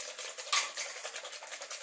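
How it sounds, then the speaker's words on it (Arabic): A hand whisk beats sugar and eggs in a bowl, producing rapid, rhythmic scraping and tapping strokes, close and fairly soft, with no talking. "غادي نحاول نخدم السكر هو البيض مزيان"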